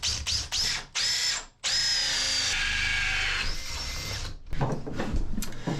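A power drill boring a hole through a cabinet bottom inside the aft cabin of a wooden boat. Several short whirring bursts lead into one long, loud, steady high whine that shifts pitch partway through, followed by rattling handling noise.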